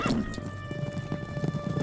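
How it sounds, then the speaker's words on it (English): Cartoon horse hooves clip-clopping in a quick, regular rhythm, close and clear over a faint musical tone. "I have to water my horse."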